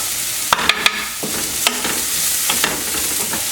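Ingredients frying in a pan until they start to brown, a steady close sizzle broken by several sharp clacks and scrapes of a utensil stirring against the pan.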